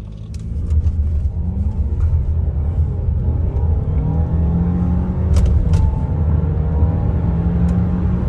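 An Audi A6 sedan set to dynamic mode with the gearbox in drive accelerates hard, its engine rumbling and rising steadily in pitch over several seconds of continuous, loud, near driving sound with rushing road noise.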